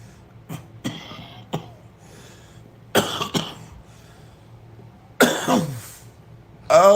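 Several harsh coughs come in clusters, some single and some in quick pairs, loud and close with quiet gaps between.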